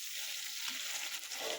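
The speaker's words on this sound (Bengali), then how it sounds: "ওই একই প্যানে আমি সামান্য পরিমাণ পেঁয়াজ দিয়ে দিলাম" Onions hit a hot frying pan already used for frying fish, giving a loud, dense hiss of sizzling oil that runs without a break.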